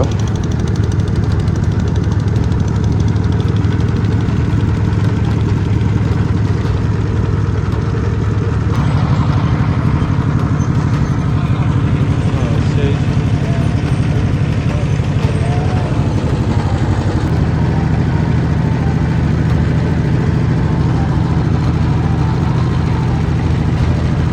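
Steady droning motor boat engine on Mahamaya lake at sunset, loud and continuous throughout with a slight shift in pitch partway through, and no clear voices.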